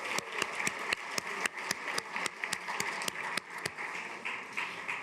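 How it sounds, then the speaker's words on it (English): Conference audience in a ballroom applauding a Senator, a series of sharp, regular claps repeating at a steady pace, fairly close, fading into looser clapping at the end. "One more round of applause for the Senator and James."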